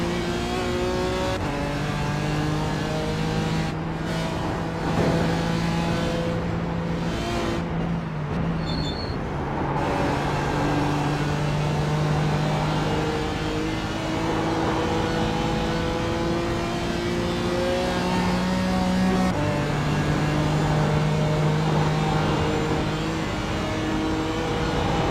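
Toyota race cars in the iRacing sim at the Nürburgring, with a loud, continuous engine drone that rises and falls through gear changes and other cars briefly whooshing past.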